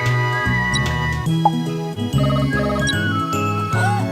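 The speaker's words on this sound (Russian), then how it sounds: "Кто ж там нам звонит?" A phone rings in the Kitten Bubu mobile game as a bright, tinkling electronic jingle that repeats in a steady melodic pattern, loud and alone with no talking.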